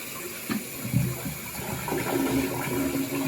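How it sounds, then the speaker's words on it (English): A rebuilt American Standard toilet flushes nearby, with a rushing gurgle of water that swells and keeps pouring steadily through to the end, no voices present. "we're going to try our flush now and see how she works"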